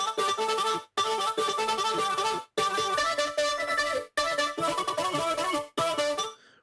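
Synthesized vocal chords without a sidechain shaper, playing as a bright, dense sustained stack with a steady level, cut into five blocks separated by brief silent gaps before fading out, loud and alone.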